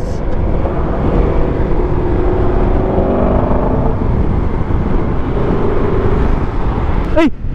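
A Honda ADV scooter, upgraded toward a big-bike setup, drones loudly and steadily close by, its engine and exhaust holding a rough, fluctuating growl with slight rises in pitch, and a brief whistle-like sweep near the end.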